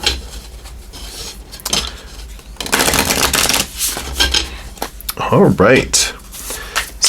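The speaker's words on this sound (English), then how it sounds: "So let's give these 3 shuffles here." Cards being shuffled in a few quick riffling bursts, with clicks and rustles between them and a voice speaking briefly.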